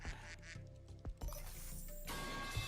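Duck quack sound effects played from a Discord soundboard, several short quacks in quick succession over a busy background of game noise and chatter, moderately loud.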